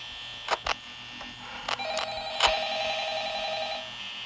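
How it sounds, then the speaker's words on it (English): A few sharp clicks, then an electronic phone ring in the video game Five Nights at Freddy's starts and holds, a steady buzzing tone that continues to the end. "Oh my, the phone scared me."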